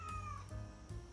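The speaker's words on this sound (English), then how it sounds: "There's our cat Lola needing some air time." A house cat meows twice in quick succession, short whiny cries heard up close in a quiet room.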